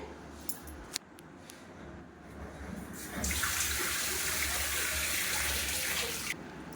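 A skinned hilsa fish is rinsed under a tap: a few small kitchen clicks, then a steady, fairly loud stream of running water that cuts off near the end.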